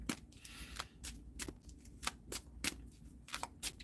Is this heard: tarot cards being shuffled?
yes